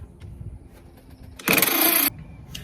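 An impact wrench loosens the 24mm strut top nut on a 5th Gen Camaro during a coilover conversion, giving one loud, steady buzzing burst of about half a second over quiet shop background.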